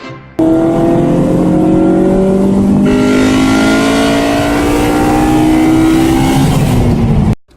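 An EK Honda Civic on a test drive after a gearbox change, its engine loud and close inside the cabin, droning steadily with harmonic tones that shift as it accelerates and changes gear; no voices.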